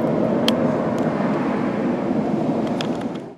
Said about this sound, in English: if you hear those jet planes out there, it's we're having an air show